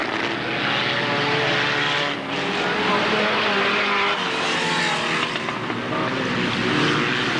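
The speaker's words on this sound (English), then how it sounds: "And this is the bangers display of the afternoon. First race for the bangers." Banger racing cars roar together at the start of a race at Alwalton Raceway in 1983, a loud, sustained engine drone with a trackside commentator talking over it.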